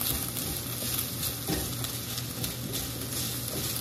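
Pork belly browning in oil in a pan, a continuous dense sizzle heard up close at an even level, with faint stirring and no talking.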